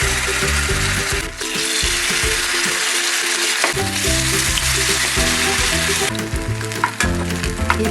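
Mung bean pancake batter fries in plenty of oil in a Korean home kitchen, a loud, dense, continuous sizzle and crackle that stays steady throughout with occasional small scraping sounds.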